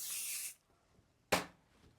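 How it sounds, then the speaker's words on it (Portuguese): Two bursts of hair shine spray from an aerosol can during styling: a half-second hiss, a pause, then a shorter sharp spritz, close and fairly quiet. "Um pouquinho do spray de brilho."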